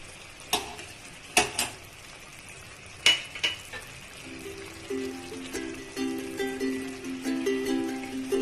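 Banana flower tipped into a pot of boiled potatoes and stirred, giving a few sharp metallic clanks of a utensil against the pot over a steady low sizzle, close and moderately loud, with no talking.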